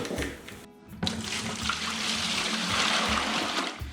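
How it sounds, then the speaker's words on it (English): Water pours from a container into a bucket of mortar mix for a wood stove stone installation, a close, steady rushing splash that builds and holds for a few seconds after a short gap. "then pour my water in and mix it all up in there real good"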